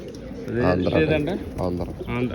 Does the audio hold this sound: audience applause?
no